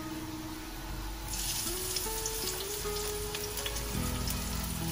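Filling for Haiphong crab noodle soup is stir-fried in a pan, with onions and minced pork belly. A soft, steady sizzle plays at low volume, with faint clinks, and nobody talks.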